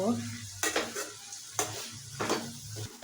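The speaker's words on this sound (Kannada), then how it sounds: "ತೊಗರಿ ಬೇಳೆ ಹಾಕಿ ಒಂದು ಸ್ವಲ್ಪ ಮಿಕ್ಸ್ ಮಾಡ್ಕೋತೀನಿ ರೀ" Toor dal is stirred in a frying pan: a low, steady sizzle with three distinct scraping strokes of a utensil against the pan, close and fairly quiet.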